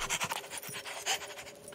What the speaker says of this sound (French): Plus un geste, les Dalton, ou je lâche le chien.